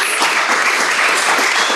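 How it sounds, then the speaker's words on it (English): Loud, steady applause from an audience, many hands clapping together and filling the whole moment without a break. "massive round of applause for our 4 amazing panelists"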